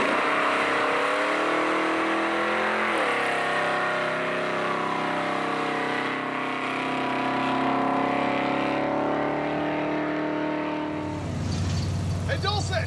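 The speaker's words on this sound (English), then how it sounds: "I guess we need to find out if it'll take just the snap wide open burnout" The 440-powered General Mayhem car does a wide-open-throttle burnout, a loud, sustained engine roar that climbs and shifts pitch, with shouting and excited voices over it near the end.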